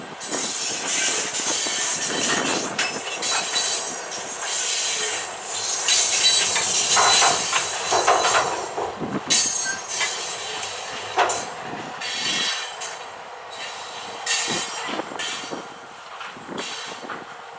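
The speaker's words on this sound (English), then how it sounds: "Iowa Southern trains run on the last bit of former Wabash trackage before making the turn west to Centerville" An Iowa Southern freight train rolling along former Wabash track, a loud, steady rumble of wheels and cars with hissing and scattered squeals and clanks as it passes close by.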